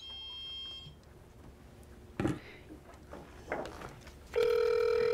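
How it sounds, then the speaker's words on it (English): Electronic tones from dialing a phone: a brief tone at the start, then rustling and faint noises, and finally a loud, steady, near beep held to the end. "it takes me a minute even to dial my phone"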